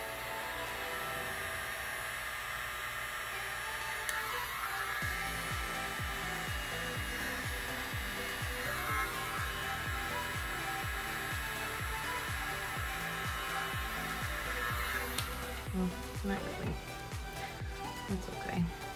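A hair dryer blows steadily on This Little Piggy paint pigments to form blooms, a continuous loud airy roar with faint clicking taps underneath throughout.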